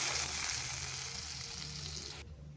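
Tomato, onion and garlic paste hitting hot oil with nigella seeds, a loud close steady sizzle that hisses continuously before cutting off abruptly near the end.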